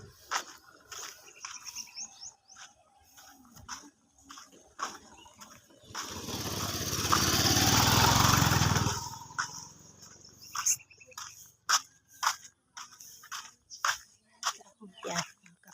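A motorcycle passes by houses in a Philippine neighborhood. Its engine roars up loudly for about three seconds mid-clip and then fades, with people talking before and after it.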